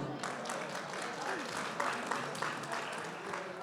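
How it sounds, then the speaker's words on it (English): A banquet audience applauds warmly for Gunjan at an annual charity dinner, a soft, even wash of many hands clapping at a distance. "Give us a big thanks and applause to Gunjan"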